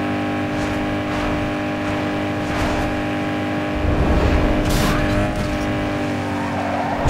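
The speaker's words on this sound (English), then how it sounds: "Scraping the bodywork." A car in Need for Speed Underground 2 grinds its bodywork while racing, with a steady engine drone, tire squeal and a harsher scraping burst midway, loud and close, with no talking.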